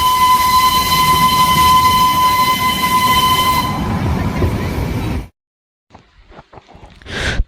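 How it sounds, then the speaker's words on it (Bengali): The Darjeeling Himalayan toy train lets out a long, steady horn tone over a close rail rumble for several seconds. The sound then cuts to near silence, followed by a few faint, scattered noises. "এই হচ্ছে আমাদের দার্জিলিংয়ের হিমালয়ান টয় ট্রেন"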